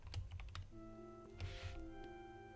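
Quick clacking keystrokes on a mint and pink mechanical keyboard, a brief soft burst of typing heard close up and quiet, with a faint steady hum beneath.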